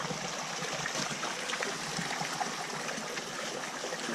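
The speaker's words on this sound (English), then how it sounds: "So just add the eggs in to make the omelette." Beaten eggs go into a pan of cooked garlic and parasol mushrooms over a Swedish candle log stove, giving a steady, close hiss and sizzle with no distinct breaks and no voices.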